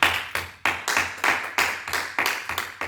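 A church congregation clapping together in praise, steady rhythmic claps roughly three per second, sharp and close, continuing evenly for several seconds with no voices over them.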